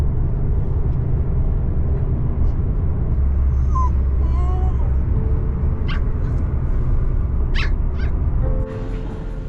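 Dogs being carried to Hanoi whimper and yip in brief, thin cries heard over a loud, steady vehicle rumble, the whines scattered and fairly faint against the road noise.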